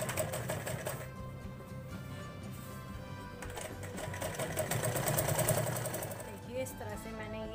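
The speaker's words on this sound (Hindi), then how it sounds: "अब हम इसके किनारे किनारे बिल्कुल किनारे किनारे एक सिलाई लगाएंगे" A sewing machine stitching along the edge of a blouse, its fast steady mechanical whirr running throughout, with someone talking over it.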